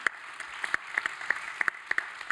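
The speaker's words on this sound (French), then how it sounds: "Je crois qu'on peut les applaudir" Scattered applause from a small audience at an innovation-ecosystem panel event, a few distinct sharp claps spread irregularly over a soft steady wash, fairly quiet and brief.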